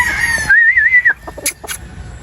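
Yellow-legged Hatch broodstag chickens call close by: a high, wavering crow-like note, then a few short clucks and sharp squawks, with quieter farmyard background between them.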